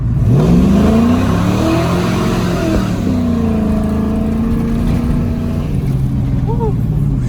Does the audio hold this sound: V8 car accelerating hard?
yes